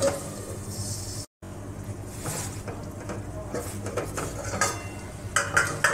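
A lid goes onto a pan of prawns cooking in mustard paste, with metallic clinks and scraping amid a steady cooking sizzle, close by and fairly loud.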